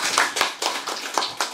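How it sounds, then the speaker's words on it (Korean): A handful of sharp, scattered hand claps from a forum audience at the National Assembly, welcoming a speaker, sounding close and uneven over a brief moment. "박수로 맞이해 주십시오."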